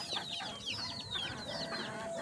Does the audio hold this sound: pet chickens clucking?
yes